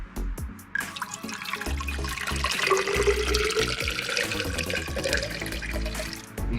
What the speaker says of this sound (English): I'm gonna fill this part about halfway with water.